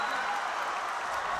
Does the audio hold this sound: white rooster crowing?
no